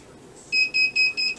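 Heat press timer beeping when its 13-second press cycle at 275 degrees finishes: four loud, close, evenly spaced electronic beeps in a steady rhythm over faint room hum.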